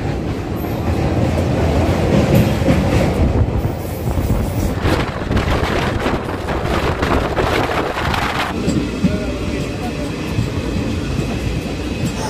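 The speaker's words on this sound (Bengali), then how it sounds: "ভালোই চলছিল ট্রেন।" Paharia Express train running across the Haldi river bridge, a loud steady rumble and rattle of rail cars with wind buffeting, continuous throughout.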